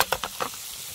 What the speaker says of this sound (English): This is a GSI frying pan with a folding handle.